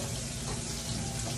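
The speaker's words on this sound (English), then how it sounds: "Turn that water off for me." Water runs steadily from a kitchen tap, a loud continuous hiss with no pauses.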